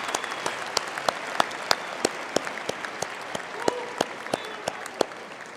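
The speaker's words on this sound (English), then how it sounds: "I think we should first give the Dean a hand of applause." Graduation ceremony audience applauding the Dean at a university autumn graduation, loose clapping in a large hall with individual sharp claps standing out at a rough regular pace over a softer spread of hands.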